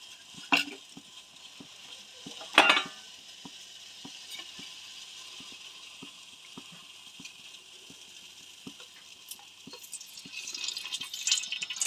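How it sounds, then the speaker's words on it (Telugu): Bagara masala whole spices sizzle and crackle in hot oil for coconut rice, a soft steady frying hiss with a couple of sharp pops early on and the sizzle growing louder near the end. "ఆయిల్ కొద్దిగా హీట్ అయిన తర్వాత ఇక్కడ బగారా మసాలా అయితే వేసుకున్నా"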